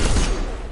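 Rapid gunfire from a Mass Effect 2 firefight, a dense burst of loud shots with heavy low-end thump that tapers slightly over under a second, with no voices.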